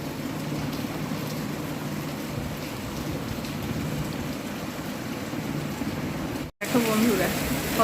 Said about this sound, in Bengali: জোরে বৃষ্টি হচ্ছে আস্তে আস্তে বৃষ্টি হতে হতে হঠাৎ জোরে শুরু হয়ে গেছে